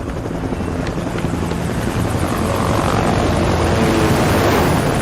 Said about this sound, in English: Then again, helicopters kind of are loud.